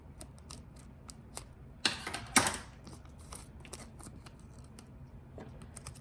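A box cutter slices through contact paper in a kitchen: faint ticks and light scrapes, then a sharp, close rasping cut in two quick strokes, followed by quiet handling noises.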